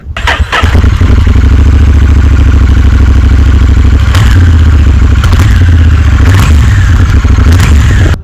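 A Honda Rebel 1100 cruiser idles through its stock exhaust with a deep, steady rumble and low burbling, loud and close, with a few brief sharp clatters.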